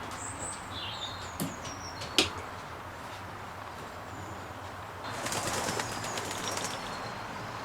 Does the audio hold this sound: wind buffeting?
no